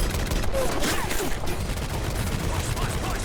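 Laser weapons firing during a battle in a Fallout game, a dense, continuous barrage of crackling shots and zaps filling the whole stretch, with a voice faintly under the din.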